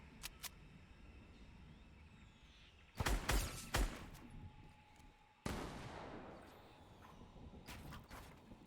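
Gunfire in the video game Fortnite during a trios playoff match, a few sharp shots ringing out over a quiet background, a cluster of cracks followed by another blast with a lingering tail.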